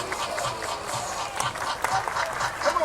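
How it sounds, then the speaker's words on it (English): A stadium crowd at a high school football game between the Hornets and the Panthers claps in sustained applause, a dense, uneven patter of many hands with scattered louder claps and faint voices mixed in. "Everybody clap your hands."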